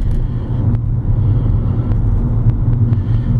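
A 2002 Audi A6 4.2 Quattro sedan accelerates on the road, with a steady, loud low engine rumble and road drone heard from inside the cabin throughout, plus a few faint ticks.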